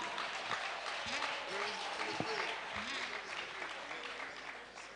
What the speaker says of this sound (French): Acclamons très fort Jésus-Christ